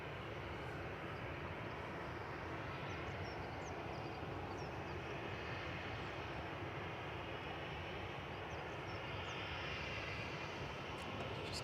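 Cathay Pacific airliner coming in to land at Manchester Airport, a loud continuous jet engine roar that stays steady and close throughout with no voices over it.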